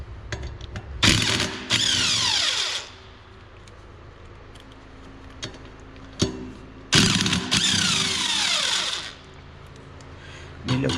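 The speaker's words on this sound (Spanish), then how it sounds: "una llave de impacto" An impact wrench works loose a brake disc bolt on a motorcycle, delivering two hammering bursts of a couple of seconds each with quiet gaps and small clicks between.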